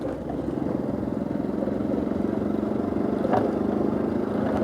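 A motorcycle fitted with its stock, standard exhaust runs steadily near the microphone with an even, low engine drone and a brief rise around the middle. Nobody talks.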